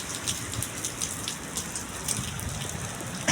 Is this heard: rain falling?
yes